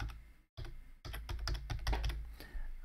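Fast keyboard typing as a folder name for a Godot 3.0 2D platformer project is entered, a steady run of close, crisp key clicks after a brief pause, with no voices.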